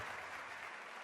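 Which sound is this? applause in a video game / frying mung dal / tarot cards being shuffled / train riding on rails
applause in a video game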